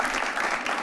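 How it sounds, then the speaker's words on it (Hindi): Applause from a live audience during an Indian reaction show, a steady, dense clapping that fills the short moment at moderate level with no speech over it. "एक बार जोरदार तालियां हो जाए"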